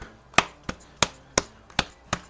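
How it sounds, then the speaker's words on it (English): Six sharp, separate knocks spaced roughly a third of a second apart as a Weihrauch HW50S air rifle is whacked to check that a jolt will not set off its lightened trigger, close and dry with quiet gaps between. "really give it some whacking like this, just to make sure that a jar is not going to set that trigger off"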